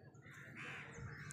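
Crows cawing near a star fruit tree in a home garden, a couple of short raspy calls at moderate distance over faint outdoor background, no talking.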